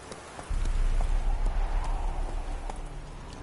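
Roach, the horse in The Witcher 3, gallops with quick rhythmic hoofbeats that start abruptly and continue steadily over a rumbling, rain-like background.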